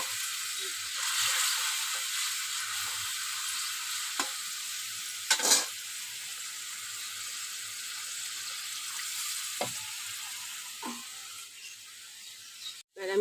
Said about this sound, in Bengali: ভেজে রাখা মাছটা দিয়ে দেবো।